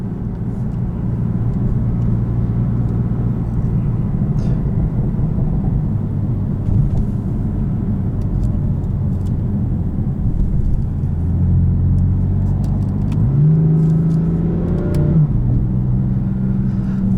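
A 2017 BMW M4 Competition with the DCT gearbox in its most aggressive shift setting, heard from inside as a steady loud engine rumble and drone that swells into a rising rev near the end, with no talking.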